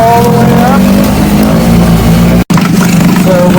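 An Aiqidi 3.5 outboard motor running at full throttle, a loud, close, continuous buzzing engine roar with a rising whine, briefly cut by a tiny dropout midway.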